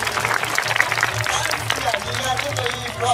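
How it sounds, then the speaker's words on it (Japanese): An audience at a Japanese festival dance show claps for several seconds, a dense, continuous patter of many hands, while a performer's voice talks over it. "自分たちに拍手。"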